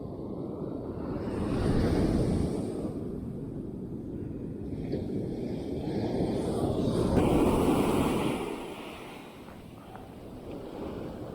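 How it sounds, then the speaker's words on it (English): Ocean waves washing onto the shore where a fish was caught, a continuous broad roar that swells and fades in slow surges, with some wind across the microphone and no talking. "always watch your back if you're near the water. Some of these waves, they'll get you."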